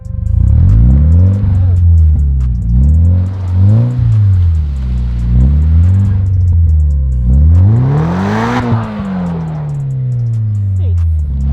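A Scion FR-S converted into a rally car revs hard while driving, its engine climbing and dropping through repeated loud close surges with gear changes, and a voice speaking over it.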